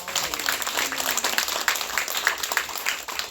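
A church congregation claps together during a sermon, a moderate burst of scattered applause with some individual claps standing out, fairly distant in the room.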